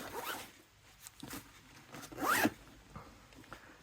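The zipper on the front pocket of a 5.11 Rush 24 backpack is pulled in one quick zip, close and fairly quiet, with some faint handling rustles around it.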